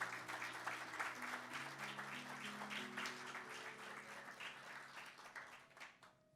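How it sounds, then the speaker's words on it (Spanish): A church congregation claps for about six seconds, a steady, fairly distant clapping over low sustained music tones, trailing off at the end. "denle un fuerte aplauso al Señor"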